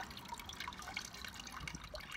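Water trickles and drips out of the bottom of a supermarket herb pot, a faint, steady splashing patter with no talking.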